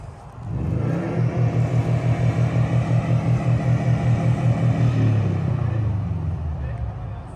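An Infiniti Q50 3.0T and a Subaru STI launch side by side in a street race, engines swelling into a loud pulsing roar that builds, holds and then fades as they pull away, amid crowd chatter.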